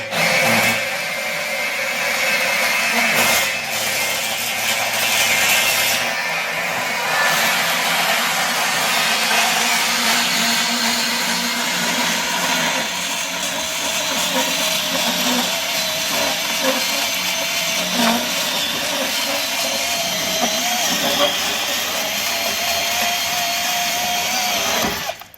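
A bandsaw cuts through threaded rod in a steady, loud, continuous grinding whine that holds for the whole stretch with only slight changes in pitch, and no voices over it.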